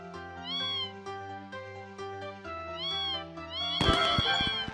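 A cartoon cat meows repeatedly as it is petted in the game Desktop Survivor 98, short bright mews over a looping synth tune, ending in a burst of sparkly chime effects.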